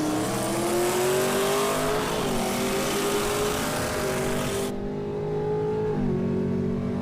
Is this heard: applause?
no